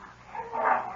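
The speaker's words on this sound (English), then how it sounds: "Call the dogs off." Dogs bark in a vintage radio drama, a single muffled bark rising and swelling over about a second, with a band-limited, old-broadcast tone and no speech.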